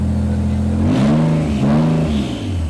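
A Nissan car engine revs up hard from idle, its pitch rising and falling in a loud, close swell over a steady rumble, with no voices.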